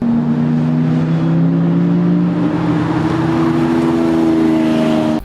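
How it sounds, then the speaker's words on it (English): A powerful car engine drones steadily at high revs, loud and close, with its pitch rising slightly as it holds a continuous, unbroken roar throughout. "A powerful car engine is strong and fast."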